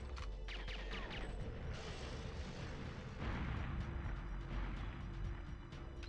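Explosion in the video game Goldeneye 007: a low, rumbling blast with a sustained roar over mechanical background noise, swelling midway, fairly quiet overall.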